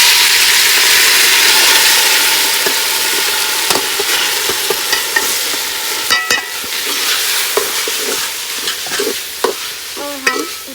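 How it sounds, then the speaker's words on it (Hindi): Vermicelli (sevaiyan) fries in hot ghee while being stirred, giving a steady loud sizzle with scattered scraping clicks from the utensil against the pan. "घी गरम हो चुका है तो अब इसमें हम डालेंगे सेवइयां।"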